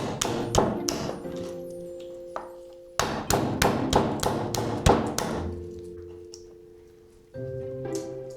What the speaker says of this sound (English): we are shelling walnuts.